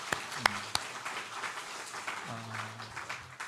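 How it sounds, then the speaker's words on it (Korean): Faint, sustained clapping from a church congregation during a Sunday worship service, with a soft low tone running beneath it and a few sharper claps early on. "이 모든 것은 하나님께 영광의 박수 드리겠습니다"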